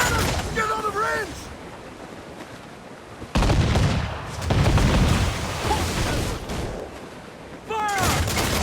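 Cannons fire in bursts during a naval battle in Assassin's Creed IV: Black Flag, loud broadband booms arriving in two heavy volleys over rumbling sea ambience, with shouted crew voices in between.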